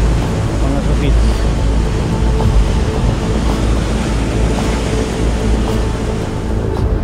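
Ocean waves washing up on a beach, a loud, constant roar of surf mixed with wind buffeting the microphone, with no clear breaks between surges.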